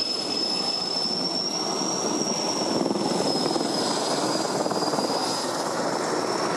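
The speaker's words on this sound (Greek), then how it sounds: "Άλλο ένα ελικόπτερο Έριξον πλησιάζει τη φωτιά και θα κάνει ρήψη νερού" An Erickson firefighting helicopter draws near a large wildfire, its rotor and turbine whine holding steady and loud throughout, with no voices.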